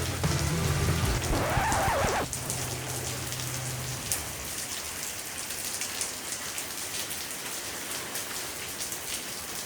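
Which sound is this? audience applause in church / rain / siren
rain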